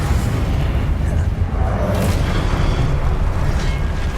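Booming fiery blast of the Confringo explosive spell in Hogwarts Legacy, a dense low rumble sustained throughout amid game-combat noise, loud and close.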